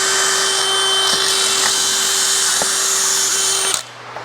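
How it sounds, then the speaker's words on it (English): A power drill pre-drilling wood for 3/8-inch carriage bolts on a picnic table build whirs steadily at high speed for several seconds, then cuts off abruptly, leaving a quieter background hum. "Now we'll grab the pre-drill for these 3/8 carriage"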